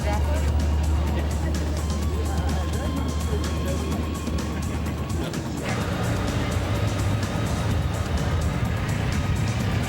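Lamborghini cars pull away at the start of the 1998 Running of the Bulls for the marque's 35th anniversary, loud close engine roar and passing rumble with a sudden shift midway, people talking over it.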